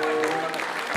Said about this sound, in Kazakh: шапалақ ұрайыншы.